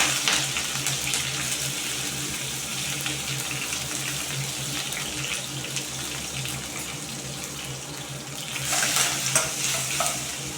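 Cumin, green chillies and curry leaves dropped into hot ghee for a tempering, giving a steady close sizzle and crackle with stirring scrapes, swelling briefly toward the end.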